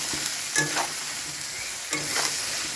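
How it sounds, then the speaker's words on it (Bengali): Hilsa fish curry with potato, salt and turmeric being stirred in a sizzling pan, a steady fry hiss broken by a couple of scraping stir strokes, close up and without talk. "তারপর আবার ভালো করে নেড়ে দেব।"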